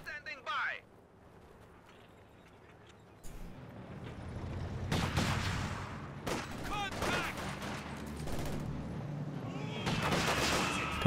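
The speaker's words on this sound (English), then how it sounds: "Guards taking pot shots with their PTRS" Guards fire PTRS anti-tank rifles in the World War II strategy game Company of Heroes 2, sharp battlefield shots and explosions cracking amid a busy fight, a voice talking over parts of it.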